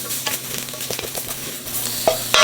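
Flour cooks in a pot for short ribs while being stirred, a close scraping and soft sizzling with irregular stirring strokes and no voices.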